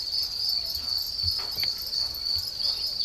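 Crickets at a cricket farm in a village community in Mae Sot, Thailand, give a dense, continuous high-pitched chirring drone that stays steady and fairly loud, with faint soft thumps underneath and no talk.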